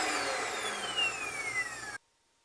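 An InterVac RV central vacuum runs with a loud, steady motor whine and rushing airflow, then cuts off abruptly near the end, leaving near silence.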